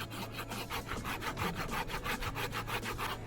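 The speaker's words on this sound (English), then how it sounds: "This is a aftermarket little handsaw." A handsaw cuts through wood in quick, regular back-and-forth strokes, about a dozen rasping passes close by.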